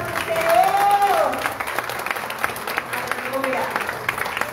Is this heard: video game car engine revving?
no